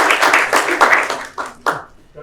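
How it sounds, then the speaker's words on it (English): Brief applause from a small audience at a presentation, a quick spatter of claps that thins out into a few scattered final claps, with voices mixed in. "Can we have a round of applause for Callan over here?"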